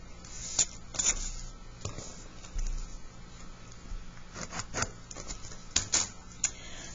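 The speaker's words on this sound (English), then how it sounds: "I'm just going to go ahead and draw all the triangles to begin with" Pencil or pen strokes tap and scratch against paper as triangles are drawn with a geometer for a math homework solution, short sharp clicks in uneven bursts over a quiet background.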